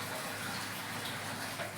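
Continuous splashing water from a home tank as a child plays in it, a steady broadband spatter like running or poured water, moderately close, with no talk.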